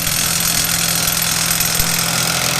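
A loud, continuous rattling hammer of a Bauer 1/2-inch impact wrench running close up, removing a bolt torqued to 250 pounds, buzzing steadily for a few seconds without pause.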